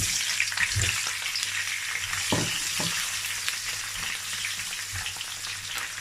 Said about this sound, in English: I'm going to fry it till it turns golden brown.